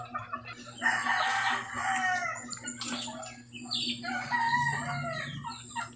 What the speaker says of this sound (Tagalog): Ito naman yung mga large type na native chicken, Parawakan ng Palawan.